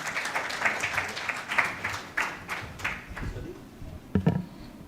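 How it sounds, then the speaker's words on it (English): An audience applauds author L.C. Singh at a book launch evening, a moderate patter of many hands clapping that gradually thins out, leaving a few scattered claps and faint murmurs at the close. "a round of applause to L.C."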